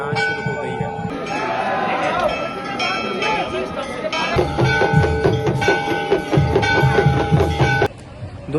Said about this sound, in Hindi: शंख बजने शुरू हो गए हैं, आरती होना शुरू हो गई है।